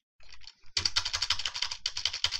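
A computer keyboard clatters with rapid, uneven keystrokes heard close, a brief hesitant start then a dense burst of typing while code is written in Unity.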